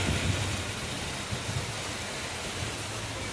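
Heavy, wind-driven rain falls in a continuous broad wash of noise, with a low rumbling roar underneath that swells and eases slightly; no one speaks.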